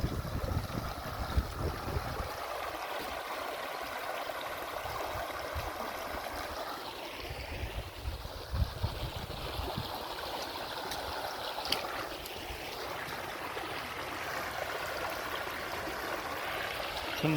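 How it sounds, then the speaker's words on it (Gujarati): Rainwater drains out of a flooded farm field after heavy monsoon rain, a soft continuous trickling and rushing flow, fairly faint and steady with no voices. "આપણા ખેતરમાંથી પાણી જાય."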